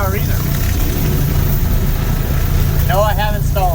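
A tractor engine churns steadily while mowing through snow-covered cattails, a loud low rumble running the whole time, with a voice speaking briefly near the end.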